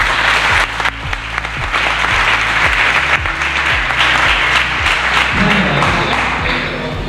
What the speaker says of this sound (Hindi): एक बार जोरदार तालियों से इस कार्यक्रम का आगाज करते हैं।